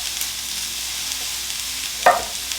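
Sliced radishes stir-frying in a hot pan, giving a constant soft sizzle with one sharper scrape of a utensil near the end.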